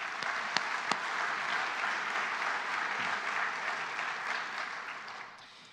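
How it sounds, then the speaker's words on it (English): Audience applause fills a lecture hall after sponsors are thanked, a steady wash of many hands clapping at moderate distance for several seconds before tapering off near the end. "So a round of applause for those folks."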